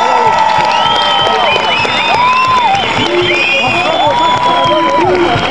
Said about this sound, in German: Herzlichen Dank und ein großer Applaus